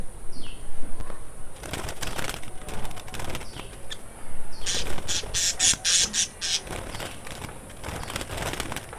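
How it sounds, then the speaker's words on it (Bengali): A budgerigar released from a hand flaps its wings outdoors in short fluttering bursts. The flapping is loudest in the middle, with faint chirps and rustling around it. "সবার প্রথমে আমি একটা পাখি হাত দিয়ে উড়িয়ে দিব"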